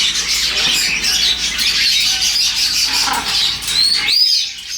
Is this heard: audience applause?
no